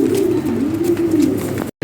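Pigeons being handed over for delivery coo steadily and close by, a low continuous cooing that runs without a break until a sudden brief cut near the end.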